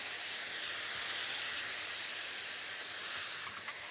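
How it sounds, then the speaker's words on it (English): Black bean sauce sizzles in a hot pan of stir-fried mushrooms, a steady bright hiss that swells slightly and continues throughout, close and fairly quiet. "We've got a nice sizzle there, so it will reduce quite quickly."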